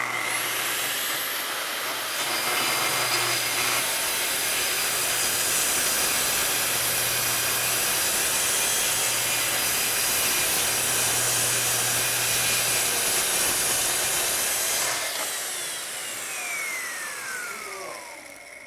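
Track saw slices along a guide rail through cabinet-grade wood, a steady loud whine that holds for about fifteen seconds before spinning down, close up with no voices.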